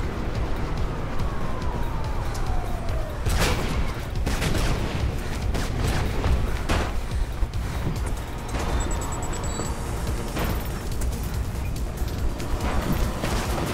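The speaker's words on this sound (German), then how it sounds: "Ich höre Schüsse" Gunfire in the video game Mirror's Edge, a few sharp bursts of shots standing out over a constant game background drone, moderately loud.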